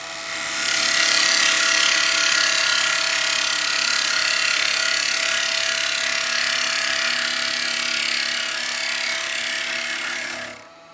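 Square carbide chisel cutting into a spinning wooden bowl on a lathe produces a loud, close, steady scraping whir that holds for about ten seconds before stopping abruptly.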